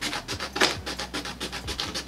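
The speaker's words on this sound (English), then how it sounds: "I'm gonna go ahead and kind of cut mine out" Scissors cut out a sublimation print for a bleached shirt, giving a quick run of crisp snipping and scraping strokes, close and steady, with no talk.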